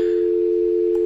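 Steady telephone dial tone from an oversized handset in the horror video game Babysitter Bloodbath, a single unbroken tone held at an even level throughout with nothing else over it.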